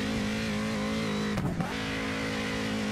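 A drift-spec M4 car engine revs hard in a racing video game, a loud sustained droning roar with a brief dip and rough burst partway through, then holding steady.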